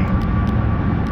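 A Dodge Charger Hellcat Widebody engine roars loudly and steadily in a brief, sustained burst of deep rumbling exhaust.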